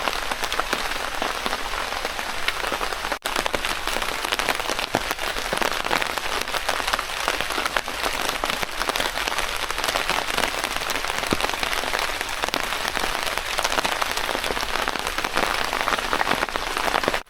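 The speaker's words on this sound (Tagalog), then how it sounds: "bumuhos na ang malakas na ulan na pinakahihintay ko" Heavy rain pouring down on a forest campsite, a dense, loud, continuous hiss of drops striking leaves and surfaces throughout, with no voices.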